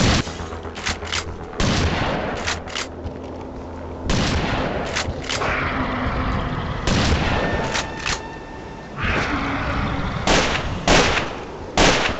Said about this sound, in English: when you blast a monster in its stupid ugly face with a shotgun